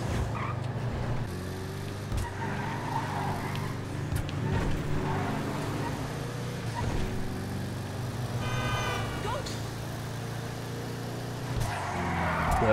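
Willard Eudora car in GTA Online, riding on lowered suspension, with its engine droning steadily while the rear slides out in corners and tires briefly squeal mid-clip. No one talks.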